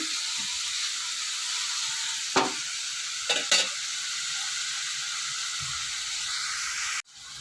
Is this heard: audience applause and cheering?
no